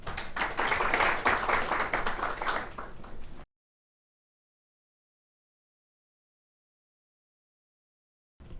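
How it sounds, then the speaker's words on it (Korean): An audience at a Korean deep-sea fishing industry forum claps steadily for about three seconds, then the sound cuts to silence. "큰 박수로 모시겠습니다."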